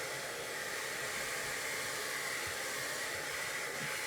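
A hair dryer blowing steadily on a painted wooden pumpkin, an unbroken close whooshing hiss at even volume throughout.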